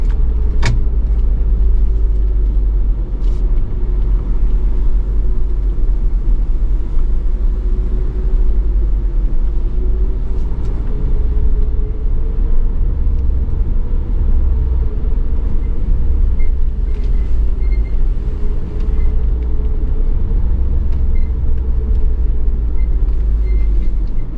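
A vehicle rolls slowly in second gear down a slick mountain road south of Estes Park in December, giving a steady low engine rumble and drone with a few faint knocks and no talking.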